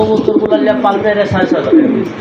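Domestic pigeons, including a female, coo softly and repeatedly at a pigeon seller's stall, the low murmuring calls running under close, steady talk.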